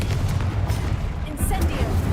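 A Confringo explosion spell goes off in Hogwarts Legacy, a dense low boom over rumbling game noise, followed by a brief crackling burst.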